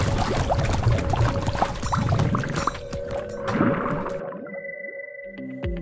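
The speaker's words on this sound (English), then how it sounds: "As one starts to pedal this exercise bike on the shore, a compressor oxygenates a small portion of the lake at 145 psi." Pedal-powered Aquacycle compressor on a lakeshore pumping oxygen into the water at 145 psi, giving a steady churning, gurgling wash of bubbling water with a constant mechanical hum, close and alone, fading near the end.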